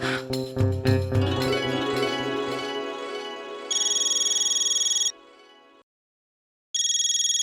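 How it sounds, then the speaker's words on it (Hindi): A mobile phone ringtone plays in a domestic sitcom scene, two bright electronic ringing bursts with a short silent gap between them, following a fading louder passage of other sounds. "बबीता जी का फोन।"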